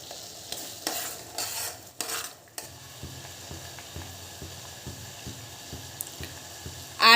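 Onions with black cumin and fenugreek simmer in a pot, opening with a few clattering stirs, then settling into a steady low bubbling broken by soft regular ticks, with no voices.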